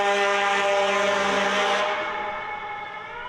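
An emergency vehicle passes on a Toronto street, its siren a loud, steady, tonal wail that begins close and fades gradually as it moves away.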